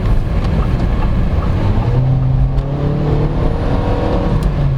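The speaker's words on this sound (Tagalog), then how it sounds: "the engine will scream a lot" 2024 Geely GX3 Pro crossover engine under full throttle, a loud, continuous droning whine whose pitch climbs steadily as the car accelerates, heard from inside the cabin.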